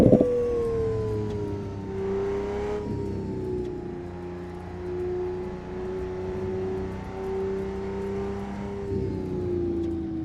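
A BMW F80 held in second gear, its engine droning at steady revs with a smooth rising and falling whine, fairly close and continuous, with no talking.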